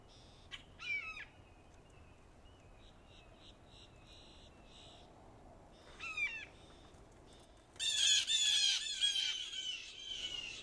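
Wild blue jays in a quiet Florida state park give harsh squawking calls in short bursts, with a louder, closer run of calls near the end over faint outdoor background.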